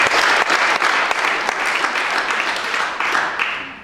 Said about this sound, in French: On peut applaudir même s'il n'est pas là.